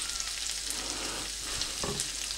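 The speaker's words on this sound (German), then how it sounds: "Ich soll jetzt ein bisschen braten lassen." Chopped ingredients for a Bauerntopf fry in a pan on the stove with a steady, even sizzle, broken by a brief stir or scrape near the end, no voices.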